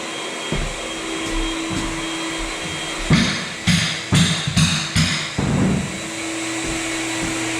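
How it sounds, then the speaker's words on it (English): A floor edger sander fitted with 16-grit paper grinds old glue off a floor, a loud steady motor whine broken by a series of harsher scraping bursts as the pad bites into the surface. "I'm grinding that glue up, just using an edger with some 16 grit."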